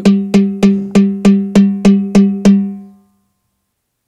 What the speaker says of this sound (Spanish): hacemos el patrón de cáscara con una mano y con la otra mano vamos tocando negras seguido